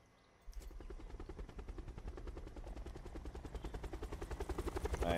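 Helicopter in the video game Black Ops 4 Blackout, a loud, steady rotor chop with rapid rhythmic thumping that swells gradually after a quiet start, heard alone without talk.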